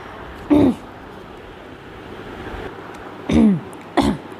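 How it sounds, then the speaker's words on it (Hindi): Two short, harsh coughs, then a third, close and loud, separated by quiet pauses. "वो एकदम से मुझे खांसी आ गई थी और मैं बोल नहीं पा रही थी।"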